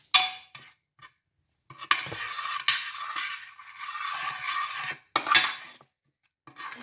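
Crushed red chilli, turmeric and nigella seeds mixed for a mustard-greens and potato pickle, heard as close scraping and clinking of a utensil against a dish in bursts, with short pauses between strokes.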